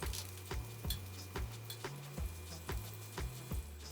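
Butter sizzling in a hot frying pan with pieces of gingerbread, a close soft sizzle broken by regular thumps and scrapes of stirring about twice a second.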